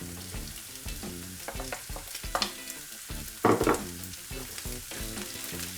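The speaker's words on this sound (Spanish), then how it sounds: "Es entonces cuando echamos el brócoli y seguimos removiendo con alegría." Broccoli and carrot pieces sizzle and crackle as they are stirred and fried in a pan for vegetable rice, with steady scraping strokes and a couple of louder clatters, close and alone with no talk.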